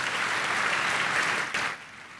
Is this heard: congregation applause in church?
yes